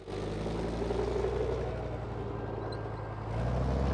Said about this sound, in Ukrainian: Двигун запускається так, як наче повітряна тривога.